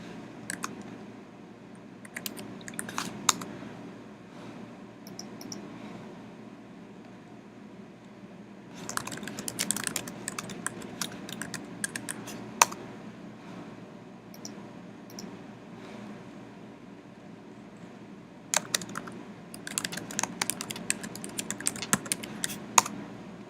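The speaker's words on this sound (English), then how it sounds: "I'm just pressing return instead of OK when I finish typing." Bursts of typing on a computer keyboard, clusters of quick close key clicks separated by quiet pauses, with occasional single louder keystrokes like a return key.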